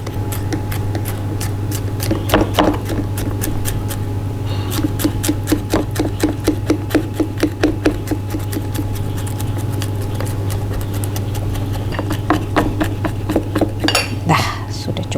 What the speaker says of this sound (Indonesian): Habis digeprek biar lebih halus, kita cincang.